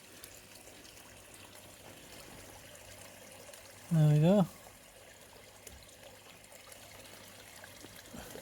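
Water trickles steadily into a container throughout, soft and close, with a person briefly speaking partway through.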